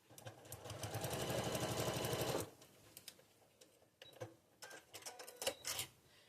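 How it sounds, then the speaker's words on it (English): A sewing machine stitches a foundation-paper-pieced snowflake quilt block in one steady, fairly close mechanical run of about two and a half seconds, then stops, leaving quieter handling clicks and rustles. "go over here to the sewing machine and stitch"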